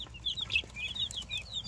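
Baby guinea fowl and chicks give high, thin peeping calls in quick repeated bursts, close by with soft clucking underneath and no talk.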